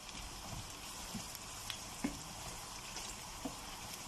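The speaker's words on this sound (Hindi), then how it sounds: "साथ ही हम इसमें डालेंगे लहसुन अदरक, इसको भी हम थोड़ा सा सौते कर लेंगे" Garlic and ginger sautéing with onions in a pan for chicken biryani: a steady, soft sizzle and frying hiss throughout, with a few small pops and clicks, no talk.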